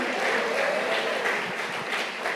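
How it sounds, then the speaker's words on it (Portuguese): Enthusiastic applause from a church congregation, steady dense clapping that continues without pause. "Pode aplaudir bem forte, dá um glória a Deus aí."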